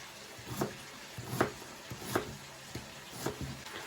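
Chicken meat frying in a pan gives a constant low sizzle throughout, with a knife chopping on a board in regular, evenly spaced knocks over the top.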